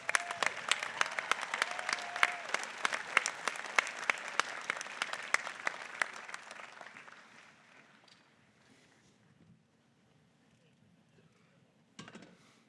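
Applause at a graduate school commencement, dense clapping loud for about six seconds, then thinning and fading to near silence, with a brief burst of claps returning near the end.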